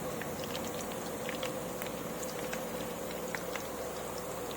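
Banana slices frying in hot oil for banana chips give a steady, dense sizzle with scattered crackling pops, close and continuous, with no voices.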